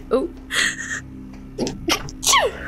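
A single sharp sneeze bursts out, followed by short breathy sounds and brief murmurs of voices nearby.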